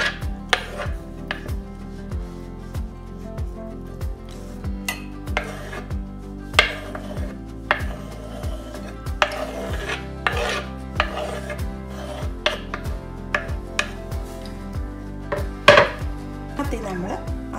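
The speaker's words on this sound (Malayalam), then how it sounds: "ഒത്തിരി ജ്യൂസി ആയിട്ടുള്ള ടൊമാറ്റോ ആണെങ്കിൽ നിങ്ങൾക്ക് ഈ ഒരു സീഡിൻ്റെ പാർട്ട് ഇങ്ങനെ റിമൂവ് ചെയ്തെടുത്തിട്ട് ചോപ്പ് ചെയ്തെടുക്കുക" Knife chopping juicy tomato on a cutting board for bread pizza sandwich, a steady run of close, crisp chops in quick bursts with short pauses, no voices.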